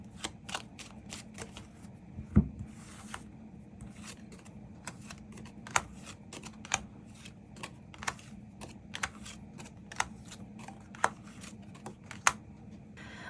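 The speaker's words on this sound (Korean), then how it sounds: "추가 카드 뽑아보도록 하겠습니다" Tarot cards are shuffled and drawn in a run of sharp, close taps and flicks spread across a soft, steady rustle, with a few louder snaps standing out and no voices.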